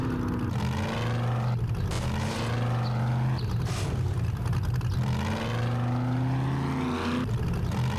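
A truck drives in the survival game 7 Days to Die (Alpha 18.3): a steady, droning engine hum whose pitch rises and falls a few times as the vehicle moves, continuous and fairly close, with no talking.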